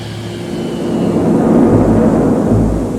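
Heavy B-52 bomber engines rumbling at a distance as the aircraft prepare for takeoff, a steady low roar that swells slightly midway with no voices.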